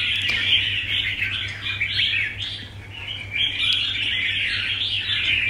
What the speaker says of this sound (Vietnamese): Nó thái độ giọng hót của con chim rất là ok anh em ạ.